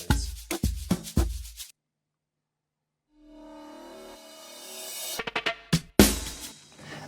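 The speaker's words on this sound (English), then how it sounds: "And then you have a fill, which also is in my sample pack." A drum fill from an amapiano sample pack: quick kick and snare hits, a gap of near silence, then a swelling tonal sweep leading into a fast burst of rolling snare strikes and a crash, with no voices.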